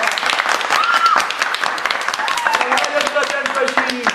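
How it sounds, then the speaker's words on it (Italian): Radio studio applause at Radio Zoo 105 played down a phone line: sustained crowd clapping, thin and busy, with voices talking over it throughout. "Ora ti faccio sentire pure l'applauso dello studio"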